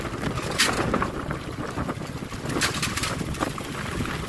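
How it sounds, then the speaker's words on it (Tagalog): Strong typhoon wind in Pangasinan, Philippines, buffets the microphone in a continuous gusting rush, with occasional louder blasts. "Lakas ng hangin, malakas yung hangin."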